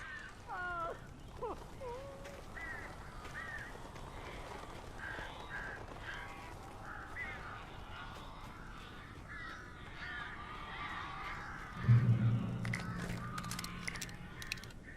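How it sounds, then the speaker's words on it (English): Crows caw in the Alan Wake video game, a few harsh calls early on against a quiet eerie ambience, later a louder low rumble, with no talking. "These birds are weird."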